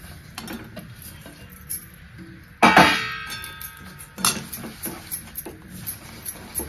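A spoon stirring sesame seeds into melted jaggery spiced with cardamom and nutmeg in a pan off the heat: scattered metallic clinks, then a loud sharp scrape against the pan, followed by more scraping and knocks.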